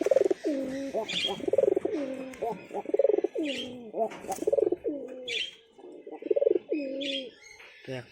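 Domestic pigeons coo repeatedly from their coops at home, a close, rhythmic series of throaty rolling calls with a few higher chirps, while a voice murmurs faintly in the background.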